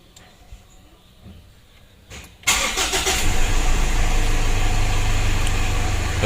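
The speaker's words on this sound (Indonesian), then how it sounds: "Untuk mesinnya sudah hidup." A Mitsubishi Pajero Sport Dakar DI-D diesel engine, after overheating, cranks briefly and fires up, settling into a loud, close, steady idle rumble after a quiet lead-in.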